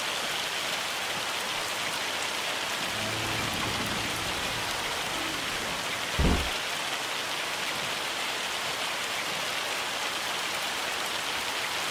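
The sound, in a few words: hailstorm rain on roof in video game Farming Simulator 25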